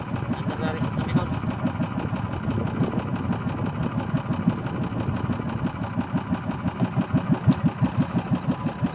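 A repaired motorcycle engine idles steadily after its fix, running smoothly without backfiring, a continuous close-up mid-pitched putter with even rapid pulses throughout.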